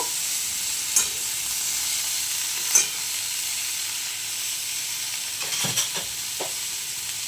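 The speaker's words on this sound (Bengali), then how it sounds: "বাঁধাকপি আর কেটে রাখা ক্যাপসিকাম দিয়ে এটাকে ভালো করে নেড়ে দেব।" Cabbage and capsicum stirred in a hot pan for chicken salad: a steady hiss of frying with a few spatula scrapes and clinks scattered through, close and fairly loud.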